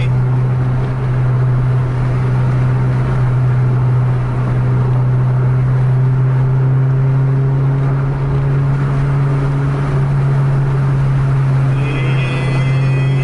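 A Scania bus engine holds a loud, steady low drone at full throttle throughout, with a faint rising whine near the end and indistinct voices in the background.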